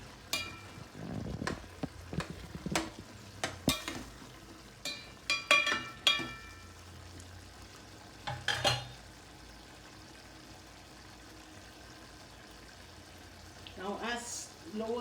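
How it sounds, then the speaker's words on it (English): Yam with red chili powder and pepper cooks in a pan for a Kerala kaalan, with intermittent spoon clatter, scraping and a faint sizzle, plus brief voices at the start and end. "Now allow it to cook till the raw taste of the red chili and the pepper goes"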